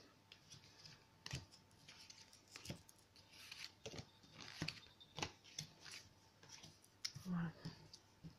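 Tarot cards shuffled and drawn for a reading, with a steady run of soft close clicks and rubs of card stock over a quiet room and low background voice.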